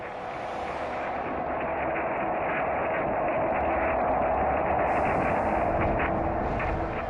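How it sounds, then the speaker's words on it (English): Sonified solar vibrations recorded by the orbiting SOHO satellite, a continuous dense rumbling roar like roiling static, steady and loud throughout with no pauses. "Picked up by the orbiting SOHO satellite, this is the sound of the sun."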